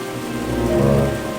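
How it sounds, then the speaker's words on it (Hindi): Steady rain pours down in a rural farming village, a continuous dense hiss and patter with no voices, swelling slightly midway through. "जल्दी बारिश रुक जाएगी"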